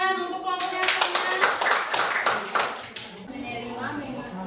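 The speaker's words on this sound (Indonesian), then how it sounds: "Tepuk tangan untuk kelompoknya semua." A class of students applauds a group before their presentation, a burst of dense hand-clapping lasting about two seconds between stretches of a speaking voice.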